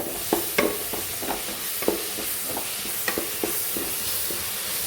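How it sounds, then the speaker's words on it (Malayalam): Onions sauté in a hot pan for chicken curry, a steady frying sizzle with repeated scraping stirs from a spoon at close range, and no voices. "നമ്മുടെ ഉള്ളി ഇവിടെ വാടിക്കൊണ്ടിരിക്കുക"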